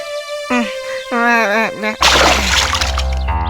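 Animated character stepping into a water puddle, a sharp bright splash and slosh bursting in after a stretch of cartoon voices and tones, then sustained watery spatter.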